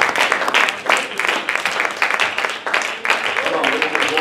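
Church congregation clapping along during worship, dense steady applause-like claps throughout, with a voice speaking over the clapping.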